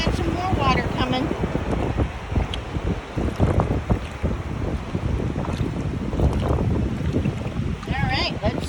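Ocean waves washing in at Hug Point beach on the Oregon coast, a continuous surging rush mixed with heavy wind buffeting the microphone, with brief voices and exclamations over it.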